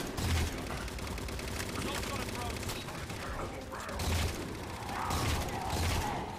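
Battle rifle bursts in Halo 4 crack out in rapid groups over other gunfire, explosions and in-game mechanical noise, with spoken voices mixed in.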